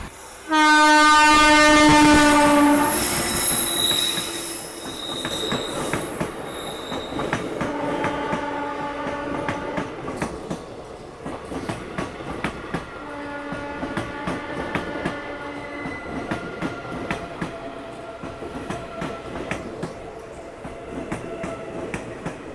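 The Amrit Bharat Express running from Varanasi to Pune sounds a loud, sustained horn at the start, then rumbles along the rails with rhythmic clickety-clack, wheel squeal and later shorter horn notes.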